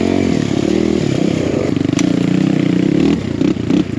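A BBR Kawasaki KLX170RF dirt bike climbs a backside trail, its single-cylinder engine droning loud and close at steady revs with brief throttle swells near the end.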